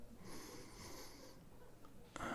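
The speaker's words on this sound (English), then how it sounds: "So big deep breath in." A patient draws a deep breath in during a simulated hospital medical exam, a soft, close, wheezy inhalation lasting about two seconds, quiet and unaccompanied by talk.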